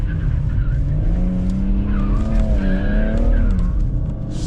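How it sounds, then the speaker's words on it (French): A BMW M140i engine drones loudly and steadily while its tires squeal and skid at very low speed on a low-grip surface in drawn-out, wavering tones close by. "Et vous voyez là, à très basse vitesse, on arrive à glisser."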